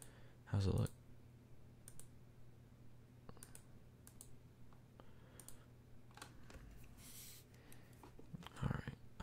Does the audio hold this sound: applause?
no